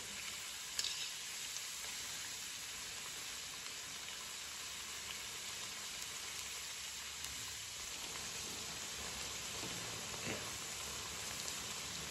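Rice cubes fry in hot oil with a steady, even hiss and soft crackle, faint and unchanging throughout, broken only by a couple of tiny pops.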